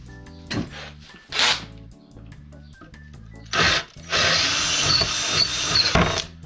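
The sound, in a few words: drill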